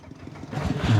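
A farm tractor's engine runs steadily at close range, its low mechanical rumble building and growing louder over about a second at a house site where a sheet-metal roof is being fitted.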